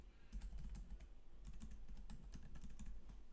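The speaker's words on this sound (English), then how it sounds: "My typing skill is terrible today." Someone types on a poor-quality computer keyboard, a quick faint run of soft key clicks with uneven rhythm over a low background hum, no voices.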